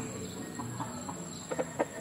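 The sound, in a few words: backyard rooster, Kelso crossed with Roundhead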